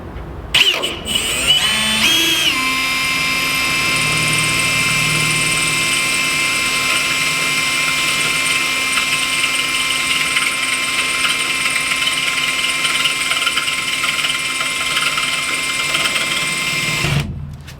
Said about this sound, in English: It is stainless steel, by the way, so this is a cobalt drill bit